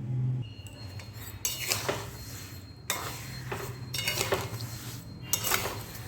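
A spoon stirs sugar in a pot over a medium gas flame while making aam panna, scraping and clinking against the metal in several separate bursts. The sound is close and moderately quiet, and no one speaks.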